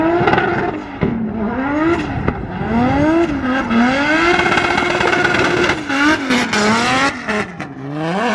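A turbocharged BMW E46 M3 drifts on its first run, the engine revving up and down in repeated surges with tire squeal, loud and continuous at close range, with no talking.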